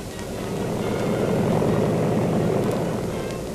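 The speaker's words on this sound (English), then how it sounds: "The first infantry plane is coming in." A military infantry transport plane arrives, its engines making a loud, steady broadband drone that swells slightly mid-way and holds close throughout with no talk.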